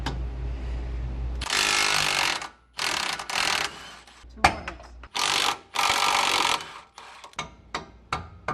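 Ratchet wrench work on bolts while removing the rear shocks of a 2014-2018 Chevrolet Silverado during a lift install, bursts of rapid clicking ratcheting separated by pauses and a few sharp metallic knocks, close and fairly loud.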